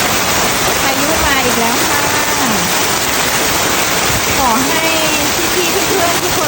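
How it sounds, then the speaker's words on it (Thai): Rain pours in a loud, constant hissing wash that fills the whole scene, while someone talks softly beneath it. "ฝนเบาลงแล้วค่ะ"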